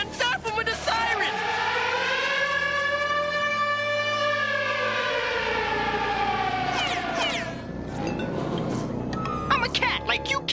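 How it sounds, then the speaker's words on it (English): A cartoon siren wails in a rising and falling tone, loud and close, then fades into clattering noise. "Zap him with a siren, man!"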